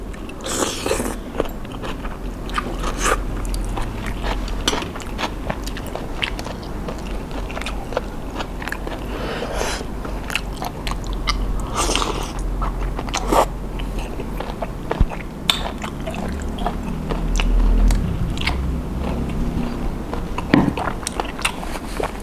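Grilled squid eaten with spicy papaya salad makes close crunchy bites and wet chewing, with scattered clicks and crackles continuing throughout.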